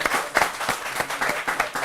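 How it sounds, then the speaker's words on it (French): Applause from a comedy show audience, a dense, steady wash of clapping from a sizeable crowd with no pauses, fairly close and even in loudness throughout. "on applaudit Moumini Kaba encore"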